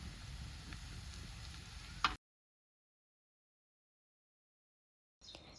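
Ingredients for Maharashtrian jhunka roast in a pan with salt, giving a steady close sizzle that ends in a brief clatter, then near-silence, with a little frying noise returning at the very end.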